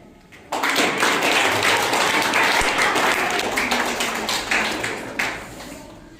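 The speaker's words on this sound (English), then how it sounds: "Clapping for them." Applause breaks out for the winning team of a fourth-grade class maths quiz competition: a dense, steady round of clapping from a room of children that starts abruptly, holds strong for several seconds, then thins toward the end.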